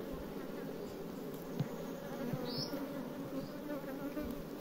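Honey bees swarm around an open hive during an apiary inspection. Their soft, continuous buzzing hum carries on with no talking.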